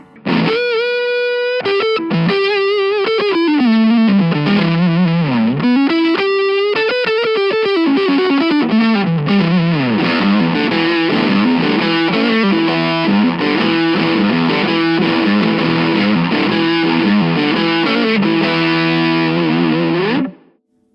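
Electric guitar through a Yamaha THR amp on a heavily distorted low-wattage Dr. Z boutique amp model, playing a busy riff with bends and chords, loud, saturated and continuous for about twenty seconds.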